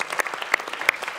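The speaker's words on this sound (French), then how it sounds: "Ah là, vous pouvez faire un petit applaudissement spécifique." An audience at a New Year's wishes ceremony gives a short round of clapping, a handful of distinct claps over a moderate hall ambience.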